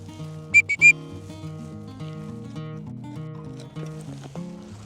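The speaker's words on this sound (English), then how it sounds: "I'm just going to hit my whistle and get her to come to me just a short distance right now" A falconry whistle is blown to call a red-tailed hawk in, three sharp shrill blasts close together and loud, then faint background sounds with tonal notes, and no voices.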